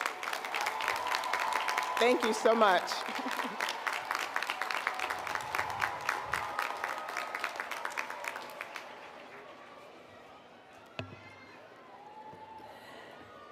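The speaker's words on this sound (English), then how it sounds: "thank them with a round of applause" A commencement crowd rises and applauds with dense, rapid clapping for about nine seconds before it thins out. A voice then speaks over the fading claps.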